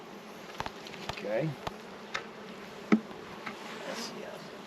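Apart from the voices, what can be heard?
honey bees buzzing around an open resource hive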